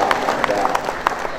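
Audience at a regional government gathering breaks into applause, a steady wash of many hands clapping with sharper individual claps standing out, close and continuous throughout.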